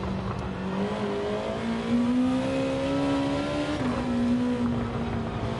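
Honda race car engine in the racing game Gran Turismo 7 revving steadily and loudly, its pitch climbing gradually and dipping briefly near the end, with no talking over it.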